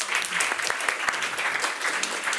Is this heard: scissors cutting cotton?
no